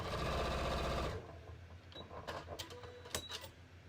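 A sewing machine stitches a seam in a fast steady whir for about a second, then stops, leaving small clicks and handling noises close by.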